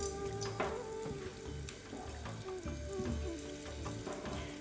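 Inch-thick eggplant slices fry slowly in oil on a tawa over low heat, giving a steady soft sizzle and crackle with a few light clinks and scrapes, quiet and continuous throughout.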